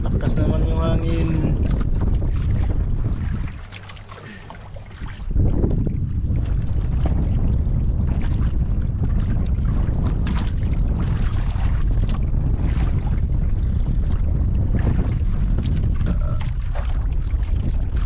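Strong wind blowing over a fishing boat at sea, a loud, close, continuous roaring rush with a brief lull early on, and voices faintly mixed in.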